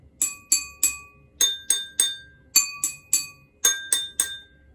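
A drinking glass is tapped in quick groups of three, each strike ringing with a bright, clear tone that fades before the next.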